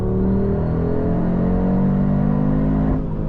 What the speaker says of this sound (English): If you get these sport exhausts, it just sounds so great.